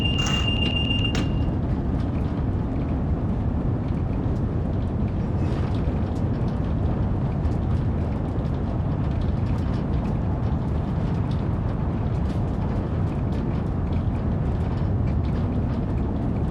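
A SouthEastern Highspeed train rattles along in a train simulator with a steady, dense rumble and clatter. A brief high whine sounds at the start, then the rough noise runs on unbroken at moderate loudness.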